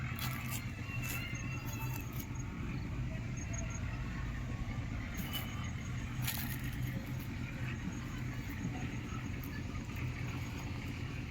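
A 2023-model tractor on 16/9/28 tyres runs with a steady low engine rumble, continuous and fairly close, with no talk over it.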